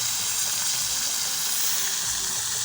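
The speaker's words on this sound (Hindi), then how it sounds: "ये देखे जी अभी हमारे साग को लग रहा है जी तड़का।" Hot tadka poured over saag in a village kitchen sizzles and hisses continuously, a loud, broad frying crackle close by with no let-up and no talk.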